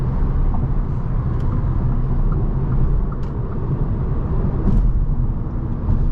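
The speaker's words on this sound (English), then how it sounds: "You can certainly hear those turbos though" A 2023 Audi S3's turbocharged 2-liter four-cylinder drones steadily on a test drive, a loud continuous low rumble heard from inside the cabin with faint turbo whistles.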